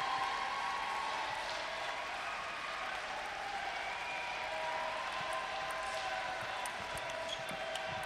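Applause and crowd noise rise in the background of a London 2012 Paralympic men's singles table tennis match, France against Ukraine, as a steady, fairly distant wash of clapping spectators fills the arena.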